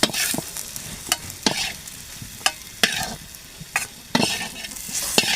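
Round eggplant slices frying lightly in oil on a tawa, a close sizzle punctuated by sharp spatula clinks and scrapes at irregular intervals.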